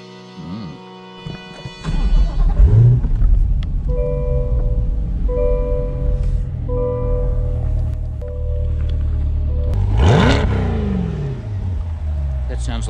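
A Chevrolet Corvette C8 starts with a sudden loud bark, then revs and accelerates in a loud, rumbling engine drone with rising sweeps and a strong surge near the end, after a brief quiet opening.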